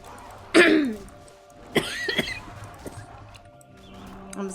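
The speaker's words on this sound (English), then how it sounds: "I'm sorry, I've got a cough right now." A person coughs hard twice, with a strong burst near the start and a second fit midway, then quieter throat noises trail off against a faint steady background hum.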